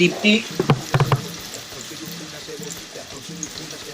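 Plantain slices sizzle in a little oil in a pan on an electric stove over medium heat, a soft steady crackle beneath someone talking, with a few clinks at the start.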